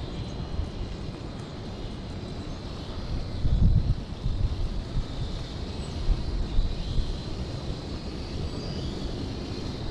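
A beginner drone flies outdoors in a fairly strong wind, its steady whine nearly buried under constant gusty wind rumble and buffeting against the microphone, with a louder gust surge partway through.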